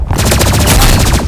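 Rapid video game gunfire, a loud close burst of fast repeated shots that rattles evenly through the whole moment.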